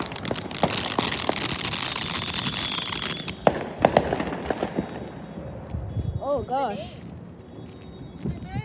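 Dense crackling bangs and pops rattle out in a rapid barrage, then thin to scattered booms as people's voices come forward.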